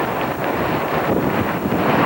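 Strong storm winds buffet the Atlantic coast, a loud, constant roar of wind noise hitting the microphone, with gusts swelling and easing slightly across the stretch and no voices heard.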